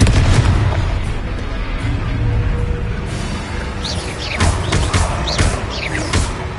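Explosive fire spell bursts in a Hogwarts video game, loud booming blasts and crackling impacts over a rumbling battle, with several sharp hits bunched toward the end.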